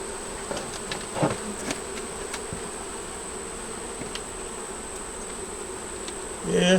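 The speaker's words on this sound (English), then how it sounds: "The reason we smoke it like this is to get the bees off that edge bar" Honeybees buzz steadily around a hive frame being smoked during a hive inspection, a dense continuous drone with a few louder bees passing close and a brief rustle near the end.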